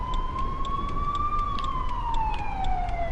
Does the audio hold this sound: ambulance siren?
yes